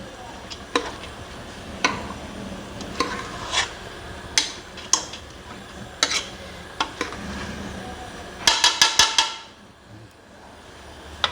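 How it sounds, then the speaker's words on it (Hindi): A haleem spice mixture is stirred and fried in a pan on high heat. A spoon clinks and scrapes against the pan at a regular beat, with a faint sizzle beneath and a quick cluster of scrapes near the end. "मैंने तेज़ आंच में इसको मैं इस तरीके से हल्का सा भून रही हूँ।"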